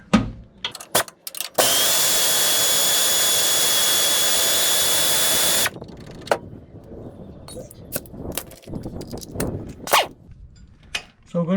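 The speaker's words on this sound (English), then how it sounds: "first we're going to be removing this top bolt. So I got my 3/8 air ratchet." A 3/8 air ratchet removing the top bolt of a front shock absorber on a 1995 Chevy 2500 4x4 pickup gives one loud, steady whirring burst of about four seconds, framed by sharp clanks and tool handling.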